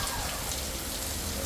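Heavy rain pours down outside onto a driveway running with muddy water, a dense, steady hiss with no pauses across the short stretch.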